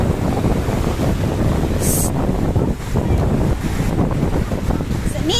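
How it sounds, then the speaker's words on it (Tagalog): Strong sea waves crash at the seaside with heavy surf roar and gusting wind buffeting the microphone, loud and continuous, with faint voices underneath. "Ay, malakas na yung alon."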